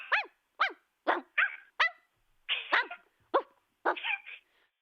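A voice imitates a dog barking, giving nine short, yappy barks and yips in an irregular rhythm, close and clear against silence.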